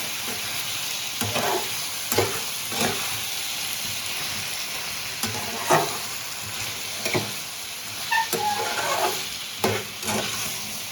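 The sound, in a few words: stirring food frying in a pan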